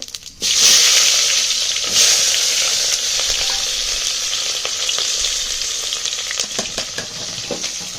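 Chopped onions and cumin fry in hot oil with mustard seeds, a loud, close, steady sizzle that starts abruptly as they go in, with light stirring clicks throughout.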